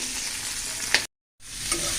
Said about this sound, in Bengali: এগুলো সব একসাথে আমি ভাজা নিই।